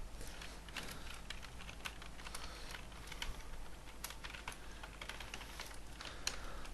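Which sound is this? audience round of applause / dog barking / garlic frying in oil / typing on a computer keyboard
typing on a computer keyboard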